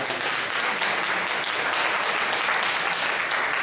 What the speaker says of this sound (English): Thank you, and give a round of applause.